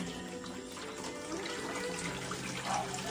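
Water runs steadily from a tap while a basin's water is being changed, a soft continuous rushing and splashing heard fairly close.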